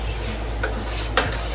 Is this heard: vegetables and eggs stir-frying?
yes